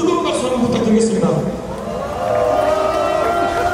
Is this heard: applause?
yes